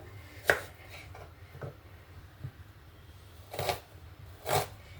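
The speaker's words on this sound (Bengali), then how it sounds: "দেখুন আমি কতটা মিহি করে পেঁয়াজটাকে কেটে নিলাম" Knife chopping an onion finely on a board, with a few soft, sparse cuts scattered across the stretch and two firmer strokes near the end, quiet and close.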